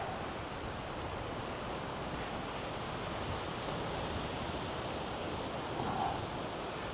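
Pacific Ocean surf breaks along the rocky Fort Ross coast of California, a steady, close, full roar of waves and wash with a slight swell near the end and no voices.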